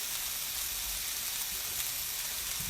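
Sirloin steak sizzles in a pan over medium-high heat, a continuous close hiss and crackle with no voices.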